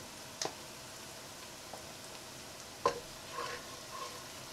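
Ingredients for Bengali Anglo-Indian egg devil are stirred in a pot over a quiet frying sizzle, with a few sharp utensil clicks against the pot and soft scraping, faint and sparse with no talk.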